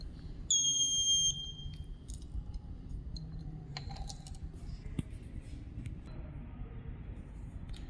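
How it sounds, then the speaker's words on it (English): An RFID attendance system for school and college sounds its buzzer for an unauthorized card: one short, loud electronic beep lasting about half a second, followed by faint clicks and a low background hum. "the red LED will glow with a different sound of buzzer"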